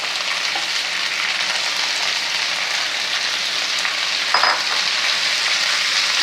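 Drumstick leaves (murungai keerai) hit hot oil in a pan for a kuzhambu, giving a steady, close hiss of frying throughout with a brief louder crackle near the end and no talking.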